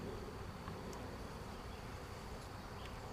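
Honey bees from an installed package hum and buzz around their queen cage. The drone is faint and continuous, with a few bees flying close by at moments.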